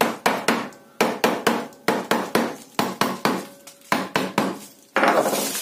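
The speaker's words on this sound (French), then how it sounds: "pareil, un petit coup de marteau" A hammer taps repeatedly on an insulating partition being fixed for a beehive, sharp close blows falling in quick bursts of two or three, with short pauses between groups and no talking.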